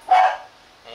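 A rottweiler gives one short, fairly close bark, then a soft trailing sound follows in a quiet space.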